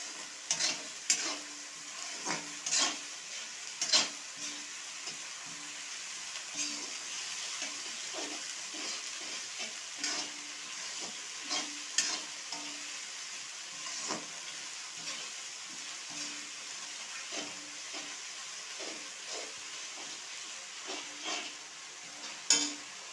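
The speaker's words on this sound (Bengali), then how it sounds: "আর এই যে 1 চামচ কাঁচা লঙ্কা বাটা। এইগুলো ভালো করে আমি কষিয়ে নেব।" Chicken masala with a spoonful of green chili paste is stir-fried in a pan. A soft, continuous sizzle runs throughout, broken by regular scraping strokes of the spoon, with no one speaking.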